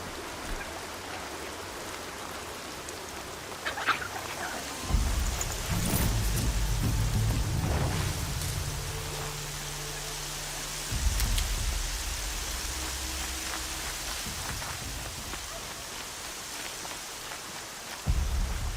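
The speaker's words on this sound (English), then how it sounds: "More rain." Steady rain falling in the game Horizon Zero Dawn, a soft continuous patter with low rumbling swells and occasional louder gusts, no voices.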